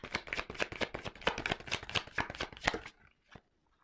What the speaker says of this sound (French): je prends encore une carte